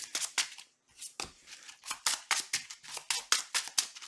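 Playing cards for a card game being shuffled back into a deck, a run of quick, crisp riffling flicks and slaps in an irregular rhythm, heard close up without any voices.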